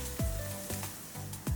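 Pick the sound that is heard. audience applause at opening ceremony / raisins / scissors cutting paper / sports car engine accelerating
raisins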